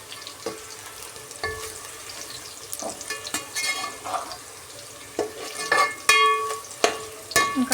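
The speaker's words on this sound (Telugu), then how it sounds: "ఫ్రై అయ్యే వరకు బాగా ఉడికించుకుందాం. మధ్య మధ్యలో కలుపుతూనే ఉండాలండి." Onions frying for biryani in a pan, a steady sizzle broken by sharp scrapes and clinks of a spoon stirring every second or so, close and fairly loud with no voices.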